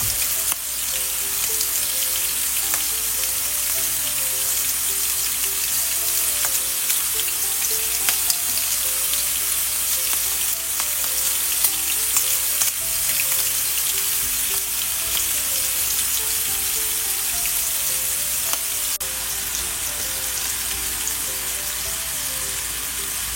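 Prawns for a prawn roast fry in coconut oil with a loud, even, continuous sizzle, while faint melodic tones run softly underneath.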